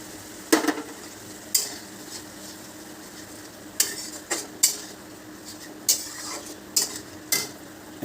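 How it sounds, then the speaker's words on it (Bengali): A spoon scrapes and clatters in a pan of ginger, garlic and green chili paste, with about a dozen sharp irregular strokes over a faint, steady sizzle and no talking. "এখন মশলাটাকে একটু ভালোভাবে কষিয়ে নেব।"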